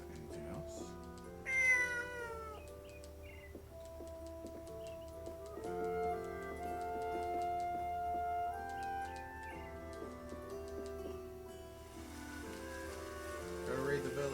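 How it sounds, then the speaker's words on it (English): Cat hiding under a bed in the video game Eternal Sonata, meowing several times over soft game music with a ticking clock, mid-level and fairly clear. "There's something underneath the bed. Oh, it's a cat."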